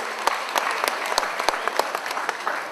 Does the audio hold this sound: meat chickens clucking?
no